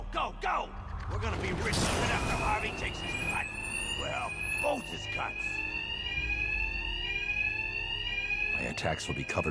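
A high, steady electronic alarm tone rings loudly and without pause during Batman: Arkham Knight gameplay on PS4, layered with voices talking and clanking mechanical game sounds.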